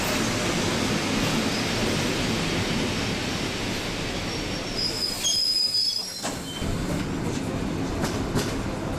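A commuter train rolls into a station platform in Upper Silesia with a steady, heavy rumble, and its wheels squeal high and sharp midway through as it moves along the track.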